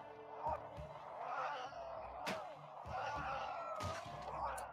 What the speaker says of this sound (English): Oh shit, they're attacking that door.